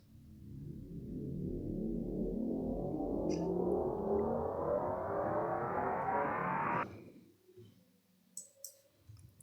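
A dense, rising riser sweep swells steadily upward in pitch for about seven seconds while it pans from left to right, then cuts off abruptly and leaves a few faint clicks behind.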